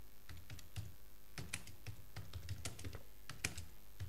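Typing on a computer keyboard, a steady stream of close, crisp key clicks in an irregular rhythm with a few louder strikes, and no voices.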